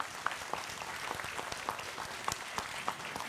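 Applause at a regional civic ceremony in the Tatra area, soft and somewhat distant, a steady patter of many hands with a few sharper individual claps.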